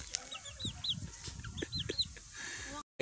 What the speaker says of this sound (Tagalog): Nagsalita po yung manok.